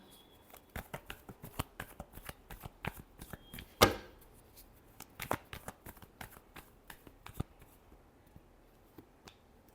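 Tarot cards are shuffled by hand during a reading: a run of crisp, close flicks and taps at an irregular pace, one sharp riffle burst near the middle, then scattered softer clicks, with no voices heard.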